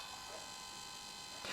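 An LG Pocket Photo printer whirs and buzzes steadily at close range while calibrating, holding an even mechanical drone that grows louder near the end.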